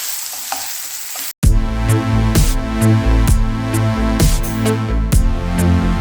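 Banana pieces fry in a pan. After a brief quiet start, a loud sizzle sets in with repeated rhythmic scraping and clacking as they are stirred and mixed.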